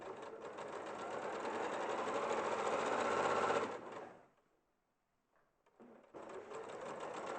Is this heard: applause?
no